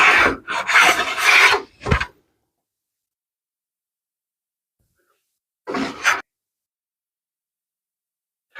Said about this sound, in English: I'm going to run the plane down through it a few more times